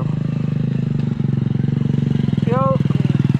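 A small RXF mini trail motorcycle's engine runs nearby with a rapid, even, throbbing putter. Someone talks over it and a brief squeaky sound rises near the end.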